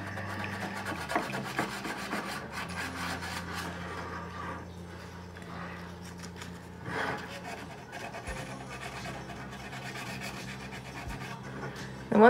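Sandpaper scrubbing hardened filler smooth on a thrifted home decor piece, a faint, steady rasping rub with a few brief pauses, close and quiet.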